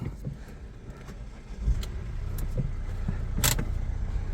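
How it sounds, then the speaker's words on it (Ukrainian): A used crossover car at a car market, its engine cranking with a few clicks and then catching into a steady idle that rumbles on nearby, loud and close. "Послухайте, як він заводиться."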